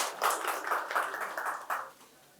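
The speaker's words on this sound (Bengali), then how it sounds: "অমিতের জন্য একটা জোরে হাততালি হয়ে যাক" An audience at a quiz competition held at Santiniketan Medical College and Hospital gives a short burst of clapping for a contestant. The applause is moderately loud and dense for about two seconds, then fades quickly.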